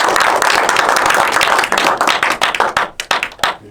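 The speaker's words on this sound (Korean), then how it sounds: "박수를 한번 주시고." A small audience at a Korean artist's studio talk claps loudly and densely, the applause thinning into scattered separate claps before fading out.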